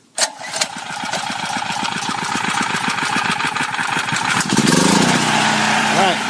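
Harbor Freight Predator 4000 watt generator cranks with a rapid chugging pull, catches and settles into a loud steady running drone, its pitch rising slightly near the end.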